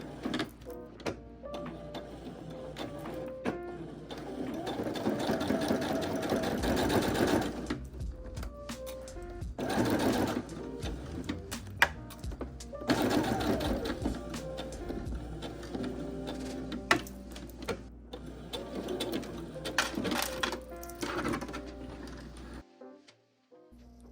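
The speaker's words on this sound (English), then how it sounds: "Sew along the basting." Sewing machine stitching along a basting line on a vest or skirt: long stretches of busy mechanical whirring and rattling at moderate loudness, with brief pauses and a few clicks, no voices.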